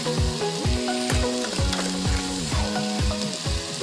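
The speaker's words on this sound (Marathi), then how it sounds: "इथे वाटणाला मस्त तेल सुटलेले, त्याच्यात आपण मसाले घालून घेऊया।" Spices are tipped into ground masala paste frying in hot oil for a paneer dish, a steady sizzle punctuated by rhythmic spoon strokes and scrapes against the pan about every half second, close and loud, with no voices.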